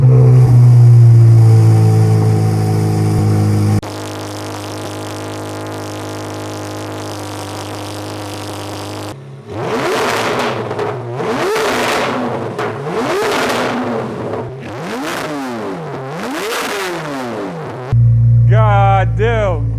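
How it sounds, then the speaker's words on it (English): A C8 Corvette Z06 fitted with a Fabspeed exhaust makes a loud, close cold start: a steady high idle drops to a lower drone, then sharp revs rise and fall in repeated sweeps before a final loud flare. "let's go ahead and turn this bad boy on and show you guys what the cold start sounds like"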